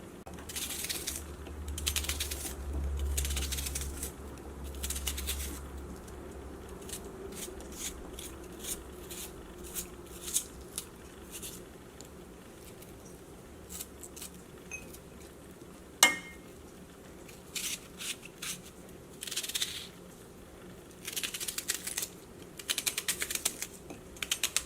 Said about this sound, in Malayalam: അപ്പോൾ നമുക്ക് സവോള നമുക്ക് കട്ട് ചെയ്തെടുക്കാം.